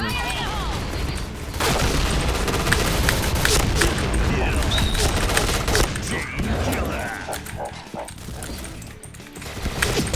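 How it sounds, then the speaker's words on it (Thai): Gunfire in the first-person shooter Point Blank rattles in dense bursts alongside grenade blasts and crashes, loud and continuous, with game chatter and a player talking over the action. "อ้าวเราปาระเบิดไปแล้วหรอ"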